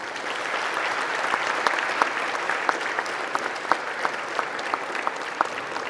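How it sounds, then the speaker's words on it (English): Steady applause from a large graduation ceremony audience, dense and continuous, with sharper individual claps standing out, at a moderate distance throughout. "Give a rousing round of applause."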